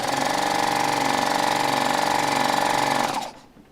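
A serger sewing machine running at speed, a loud close mechanical buzzing hum with rapid pulsing stitches that holds steady for about three seconds, then cuts off.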